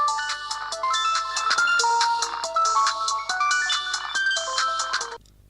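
A telephone rings for an incoming call with a bright electronic melodic ringtone of repeated tonal phrases. It plays loud and close for about five seconds, then cuts off abruptly.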